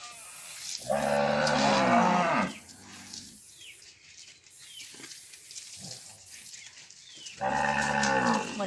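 Cattle mooing as they are let out of a corral back to pasture on a farm, two loud drawn-out moos near the start and end with quieter shuffling and faint calls between.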